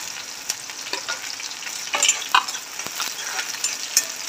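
Finely chopped green chillies fry with onion and cumin in hot oil, giving a moderate, steady sizzle punctuated by sharp clicks and scrapes of stirring nearby.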